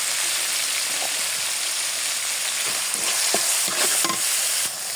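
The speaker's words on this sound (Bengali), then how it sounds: "ভালোভাবে মশলাটা আমি কষিয়ে নেব।" Cumin, onion, garlic paste and turmeric sautéing for a fish curry, a constant hiss of frying with scattered stirring scrapes that grow busier toward the end, close and fairly loud, no talking.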